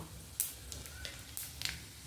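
Whole spices dropped into hot oil in a heated kadai for tempering, a soft continuous sizzle with a few brief sharp crackles and pops, close and fairly quiet.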